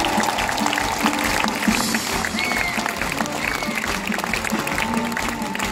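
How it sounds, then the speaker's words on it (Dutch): A large outdoor audience at a quarry open-air theatre applauds, a loud, dense and sustained wash of clapping with cheers, whistles and voices mixed in. "Een groot applaus graag."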